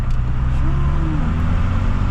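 A restored first-generation Cummins diesel truck with around 500,000 miles drives along with a loud, steady low rumble and a brief rise in engine pitch, heard from inside the cab with no talking.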